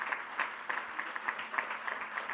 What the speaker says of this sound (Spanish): ¿Puede darle un aplauso de gratitud al Señor?